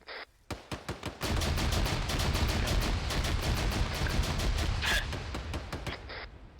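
Gunfire erupts during a military field training exercise against an armored vehicle: a few sharp separate shots, then a dense sustained fusillade of rapid automatic fire that rattles on loudly for several seconds before tapering into scattered bursts.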